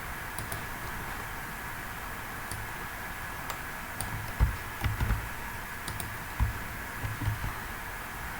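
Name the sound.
typing code on a computer keyboard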